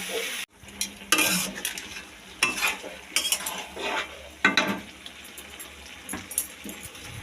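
Chopped banana flower sautéing with prawns in a pan, a soft steady sizzle beneath repeated scraping and clanking strokes of a spatula, irregular and close.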